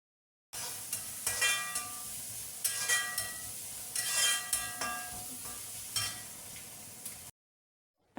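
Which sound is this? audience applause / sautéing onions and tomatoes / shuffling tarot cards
sautéing onions and tomatoes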